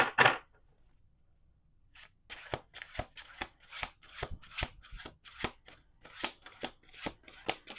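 Playing cards are riffle-shuffled repeatedly, a quick series of crisp flutters and snaps after a brief pause, close and fairly quiet.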